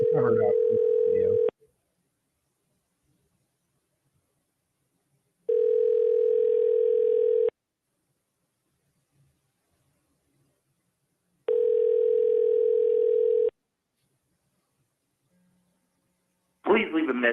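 Outbound phone call ringing back: long steady ring tones repeat at regular intervals with silence between, a voice briefly heard at the start and end.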